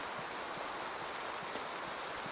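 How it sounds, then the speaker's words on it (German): Steady rain in the hunting game Way of the Hunter, a dense, even hiss of falling drops with faint soft patters, continuous and unbroken throughout. "Warum regnet denn das schon wieder?"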